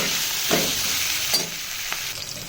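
Chikkudukaya (broad beans) fry in a pan for a curry, with a steady close sizzle. A few scraping stirs punctuate it, and no one speaks.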